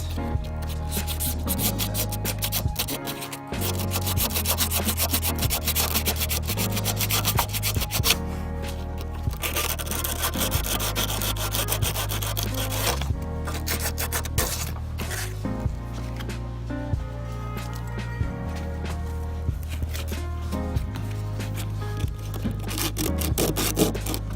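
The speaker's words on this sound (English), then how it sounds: "I just grabbed some sandpaper, gonna sand it down before we weld onto it." Sandpaper is rubbed by hand over a metal differential before welding, a steady, dense scraping and rasping that runs continuously with only brief pauses.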